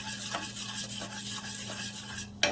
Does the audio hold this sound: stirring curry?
yes